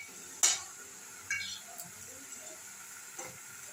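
Banana flower mash spiced with chili, turmeric, coriander and cumin powders, salt and sugar, stirred in a pan: a faint steady hiss broken by a few sharp spatula scrapes and clinks against the pan, with no voices.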